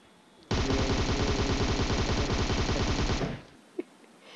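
Close-range automatic gunfire in the PUBG Mobile game, one loud rapid burst of shots lasting about three seconds that stops abruptly, followed by a single faint click.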